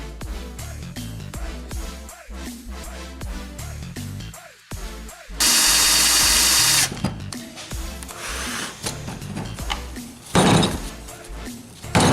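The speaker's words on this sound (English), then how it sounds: "Now these can take a little while to drill through metal" A power drill whines in short bursts boring pin holes through metal for a knife's bone handle, with one sustained high-pitched grinding stretch midway and clattering, handling noises between runs.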